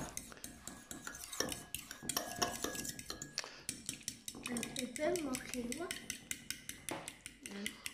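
Cucumber tagliatelle being stirred with dressing in a bowl: a steady run of utensil scrapes and light clinks against the dish, with faint voices in the background.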